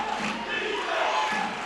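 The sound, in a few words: basketball crowd getting rowdy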